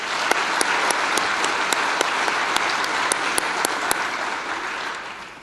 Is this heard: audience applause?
yes